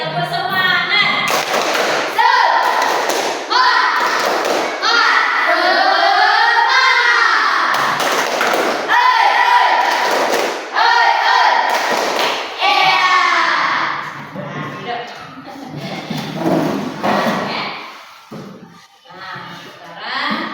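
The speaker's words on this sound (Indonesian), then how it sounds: "Ulang sekali, tepuk semangat." Students in a classroom repeat a rhythmic spirit clap, loud clusters of claps falling in a set pattern between bursts of group chanting, then fading toward the end.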